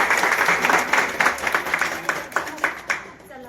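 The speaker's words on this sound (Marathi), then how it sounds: "एकदा आपण सर्व त्यांचं टाळ्या वाजवून अभिनंदन करूया" Audience applause at a Women's Day celebration at PNG Jewellers in Baramati, a ragged burst of clapping with sharper individual claps standing out toward the end before it thins.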